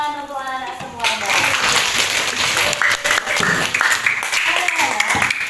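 Children clapping their hands in a classroom, a dense burst of applause starting about a second in and continuing steadily, with an adult's voice and children's voices over it.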